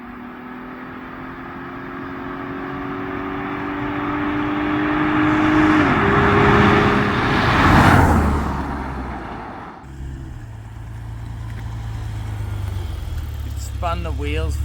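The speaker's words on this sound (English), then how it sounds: "Spun the wheels for a fair bit off the start because the road's wet" Turbocharged Holden VX Commodore pulling away from a standing start on a wet road, with a rising engine note that peaks and drops at a gear change, then settles into a lower drone under brief talk.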